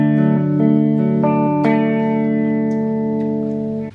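Guitar playing the chord pattern from a song: a chord rings out while a few quick notes are added on top, then it sustains and fades, clean and close with no voices.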